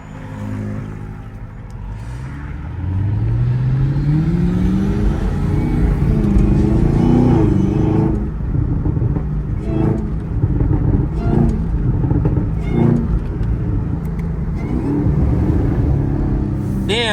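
A Chevrolet Camaro ZL1 with a 10-speed automatic rumbles loudly from the cabin, its engine note sweeping up through gears and revving on downshifts with a deep, steady roar.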